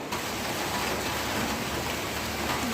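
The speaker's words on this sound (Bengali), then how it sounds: "বুঝতে পারছো রাস্তায় কীরকম বৃষ্টি পড়ছে।" Heavy rain pours steadily onto a waterlogged street after days of nonstop downpour, a dense unbroken hiss without voices.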